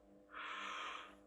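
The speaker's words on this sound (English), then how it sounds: "So I'm now starting to yawn" A person yawns while relaxing during a neck massage, a single drawn-out breathy exhale swelling and fading over about a second, close and fairly quiet.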